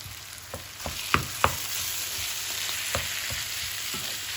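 Minced meat frying in a pan as it is stirred and pressed down, with a steady sizzle broken by several sharp scrapes and knocks of the utensil against the pan.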